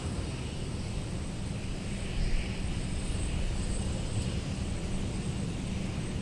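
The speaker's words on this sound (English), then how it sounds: "We have a biz jet of some kind on final, very short final. It's a G280." A Gulfstream G280 business jet on very short final at Minneapolis–Saint Paul airport gives a steady, moderately distant engine roar, swelling slightly midway and holding throughout with no talk.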